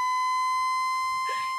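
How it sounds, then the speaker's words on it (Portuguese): A siren sound effect cued by the production crew of a São Paulo football talk show: a loud, steady electronic tone at one fixed pitch that holds throughout, with a brief extra burst near the end and no voices. "Toca a sirene, produção!"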